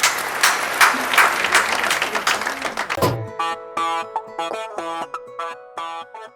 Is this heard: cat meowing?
no